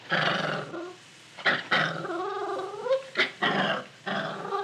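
A dog growls and whines while resisting a new collar and leash, with several rising, strained bursts of growling separated by short pauses, close and clear with no talk.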